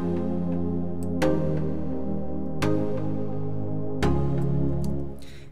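A layer of sustained chords played for songwriting, four chord changes about every one and a half seconds, smooth and continuous, fading at the end.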